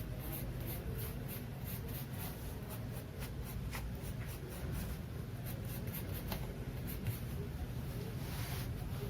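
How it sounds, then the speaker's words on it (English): A color pencil shades a drawing of a palm, making faint, close, continuous scratchy strokes on paper. "I am using color pencil."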